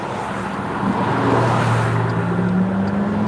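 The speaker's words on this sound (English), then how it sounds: "Give y'all some traffic sounds." Road traffic rumbles past a car out on a delivery drive, a loud low roar of engines and tires that swells slightly in the middle and continues steadily, with no talking.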